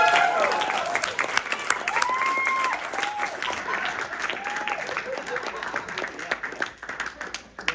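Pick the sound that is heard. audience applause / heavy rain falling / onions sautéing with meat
audience applause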